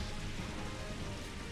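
Steady rain from Pelipper's Drizzle ability in a Pokémon video game, a dense, even hiss of falling drops that holds at one level throughout with no pauses.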